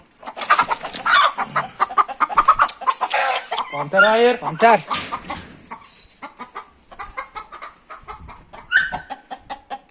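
Asil chickens cluck and squawk up close while an Asil rooster lets out a crow, with people talking over the birds throughout.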